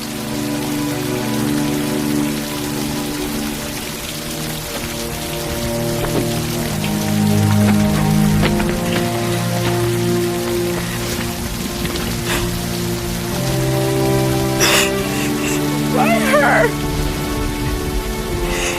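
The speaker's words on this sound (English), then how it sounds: "It's the rain. It's the drops. I can feel it for the first time." Steady rain falls throughout, a dense close patter of drops under soft music in a romantic drama, with a faint brief rumble near the end.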